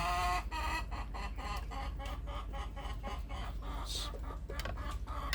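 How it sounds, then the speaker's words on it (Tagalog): Chickens cluck and chatter close by on a rural farm, a busy flock of overlapping calls over a steady low background rumble. "Ako, ang daming manok dito guys."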